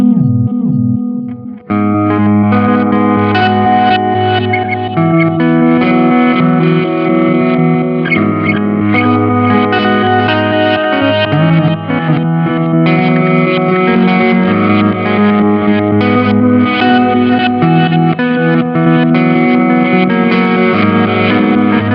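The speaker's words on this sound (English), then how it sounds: "the last mode is reverse, and it takes our delayed signal and plays it back in reverse" Electric guitar through a Sonicake pedal in reverse delay mode, a continuous loud passage of sustained, distorted notes with swelling backward repeats and a washy echo layered over the playing.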